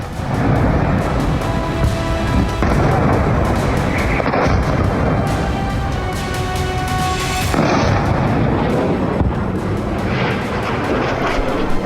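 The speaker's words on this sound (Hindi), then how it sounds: "सेंट्रल तेल अवीव में एक के बाद एक कई मिसाइलें दागी गईं।" Iranian missile strikes on central Tel Aviv at night, with continuous loud, heavy explosions and rumbling booms overlapping one another for the whole stretch, dense and close with no quiet gaps.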